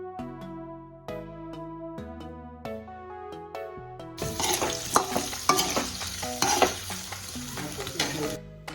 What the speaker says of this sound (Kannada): ಈಗ ಅದು 5 to 10 minutes ಇದು ಚೆನ್ನಾಗಿ ಫ್ರೈ ಆಗಬೇಕು ಆಯಿಲಲ್ಲೇ